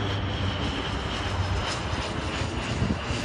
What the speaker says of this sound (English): Looks like we got a plane